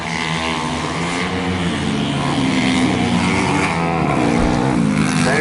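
Junior speedway motorcycles racing at Rosebank Speedway, a loud continuous engine roar with rising and falling revs as bikes circle the track, steady and dense without talking.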